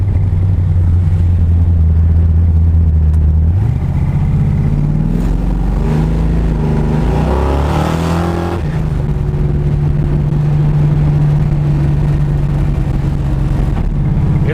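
A Dodge Dart drag car with big rear tires and small front ones, its engine rumbling loudly up close as it is manually shifted, revs climbing, dropping at a gear change, then climbing again before settling into a steady drone.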